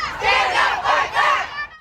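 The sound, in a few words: crowd of abortion rights protesters shouting in Cincinnati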